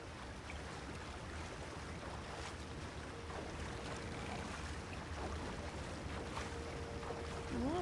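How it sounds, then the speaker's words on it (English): Rowboat being paddled in the video game Red Dead Redemption, water sloshing and lapping against the hull in a steady wash over light wind, fairly quiet, with no talking. "Why am I paddling?"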